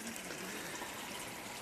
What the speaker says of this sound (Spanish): Parte de la finca la atraviesa un torrente